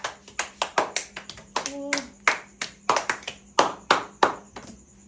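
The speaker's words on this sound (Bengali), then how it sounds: "তালি দাও না" About a dozen and a half sharp hand claps in a loose, quick rhythm, close by, with a brief voice between them.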